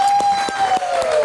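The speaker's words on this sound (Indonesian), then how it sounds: "kita kasih tepuk tangan sekali lagi" A live music show audience claps briefly for a band celebrating its 20th anniversary, a short burst of scattered applause and light cheering under a steady tone that slowly drops in pitch.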